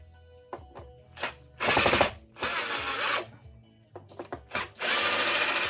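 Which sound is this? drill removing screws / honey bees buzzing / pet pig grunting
drill removing screws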